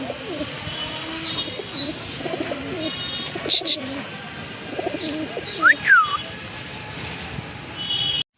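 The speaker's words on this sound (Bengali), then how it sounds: "এক জোড়া অরেঞ্জ কালারের ছিলে কবুতর দেখতে পাচ্ছেন" A pair of orange, thick-beaked pigeons coo softly amid steady background chatter from other birds, with a few sharp chirps and rustles partway through.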